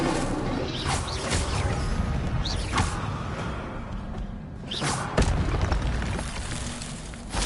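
Incendio fire spell effect in a Hogwarts video game: repeated whooshing bursts and crackling thuds at moderate loudness, several sharp impacts spread over a noisy, rumbling background.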